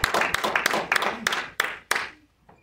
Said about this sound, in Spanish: Esa fuerte, esa ofrenda de palmas a nuestro Dios Todopoderoso.